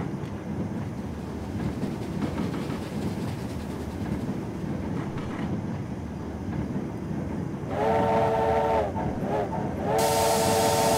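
An LMR USATC S160 steam locomotive in Train Simulator rumbles along the West Somerset Railway, then its whistle sounds in a few loud blasts near the end, the last held long.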